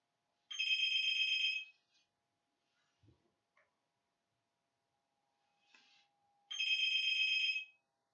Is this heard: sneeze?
no